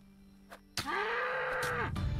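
A cow in the video game Medieval Dynasty gives one long, steady moo of about a second, close and fairly loud over quiet outdoor game ambience.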